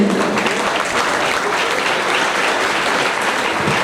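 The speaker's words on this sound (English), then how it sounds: "A huge round of applause, please" Loud, dense applause from an audience at a school teachers' event, steady and continuous throughout with no voices breaking through.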